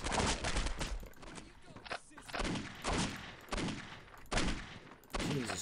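Bursts of gunfire from several people shooting in the game Postal 2, loud and close, rapid volleys broken by brief gaps.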